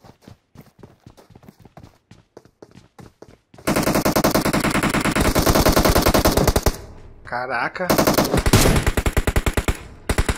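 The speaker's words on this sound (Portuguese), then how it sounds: "É um monte de tiro pra derrubar o menino Jaime" In-game gunfire in PUBG Mobile: a run of sharp single shots, then a long loud burst of rapid automatic fire, a brief pause, and more rapid bursts, with a player briefly exclaiming.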